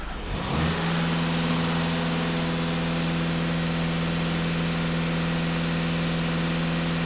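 Skoda Octavia A7 engine rising from an 800 rpm idle to a steady 2500 rpm, a loud, close, continuous hum that climbs in the first second and then holds evenly, with no talking.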